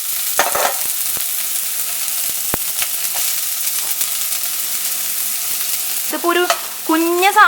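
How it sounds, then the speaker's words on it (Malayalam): Onion sautés in a pan with fenugreek seeds for a pumpkin and red lentil curry, a steady close sizzle with scattered clinks of stirring, louder scraping bursts near the end. "ഈ സവാള നന്നായിട്ട് വഴറ്റാട്ടാ"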